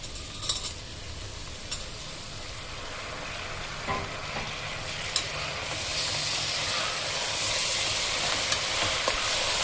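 Chopped tomatoes going into a pan of sizzling broad bean curry, village style, a close steady frying hiss that swells louder in the second half, with a few clinks of the spoon early on.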